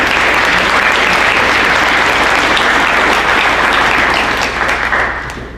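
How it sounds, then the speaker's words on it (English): An FFA banquet audience in Fairbanks gives loud, dense, sustained applause for new honorary members, holding steady before tapering off at the end. "Please join the officer team with a round of applause for these new honorary members."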